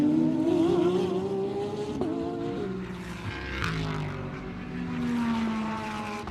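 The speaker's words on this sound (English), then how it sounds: "Beautiful sounds, the different power plants in these GT3 cars that make up the SRO3 class." GT3 race cars of the SRO3 class in the GT America series lap Sebring International Raceway, their engines rising and falling in pitch as they pass with a steady loud roar. No one speaks.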